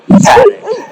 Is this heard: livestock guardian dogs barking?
yes